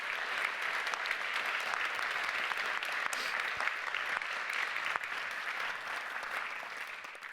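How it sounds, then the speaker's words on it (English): A summit audience applauds five award finalists at an awards ceremony, a dense, even roll of clapping from a large crowd that holds steady for several seconds before easing slightly. "Let's give all 5 of them a round of applause."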